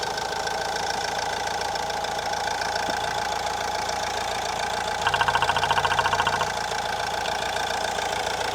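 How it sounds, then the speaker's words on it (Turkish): A vehicle engine runs at a steady idle and is then pushed to about 1500 rpm, giving a brief rougher, louder pulsing rise for a second or so before settling back to idle; no talking is heard. "Bir 1500 gaz alabilir miyiz? 1500 devir."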